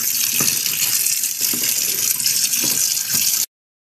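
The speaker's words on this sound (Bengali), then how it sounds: "তাহলে মাছগুলো ভালো করে ধুয়ে নিতে হবে।" Tap water runs steadily into a sink while small tengra fish are washed for a curry, a close broadband gush with faint handling knocks, no talk, cutting off abruptly near the end.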